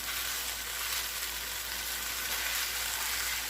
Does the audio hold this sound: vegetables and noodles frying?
yes